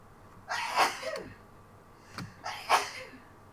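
Two loud, sharp sneezes about two seconds apart, each with a quick intake before it, from a person drawing a digital fantasy map, with no talk over them.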